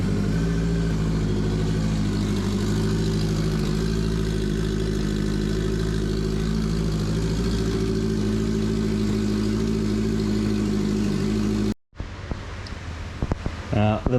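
A turbocharged Yamaha R1 motorcycle engine idles roughly with a misfire, a loud, close, steady drone with uneven pulses. It cuts off abruptly near the end, leaving quieter background noise and brief clatter.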